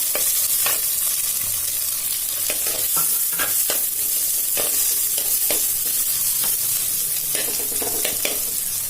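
Onions frying in a pan produce a busy, steady sizzle, with frequent clicks and scrapes as they are stirred.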